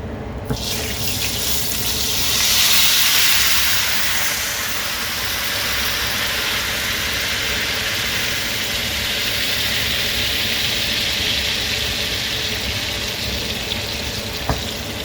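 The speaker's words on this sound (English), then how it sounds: "Now let it boil." Dal boiling hard in a pot, a steady bubbling, hissing rush, continuous and close, with no talking.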